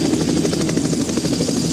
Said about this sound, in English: Helicopters, hold on.